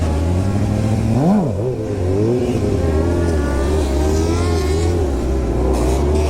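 Motorcycle engine held at high revs during a foot-brake circle wheelie, a loud, close, continuous drone that dips briefly as the throttle is flipped and then climbs back.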